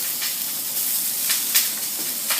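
Shallots sizzling in a hot pan for a Steak Diane sauce, a steady hiss and crackle with a few louder spits, fairly close and continuous with no talk.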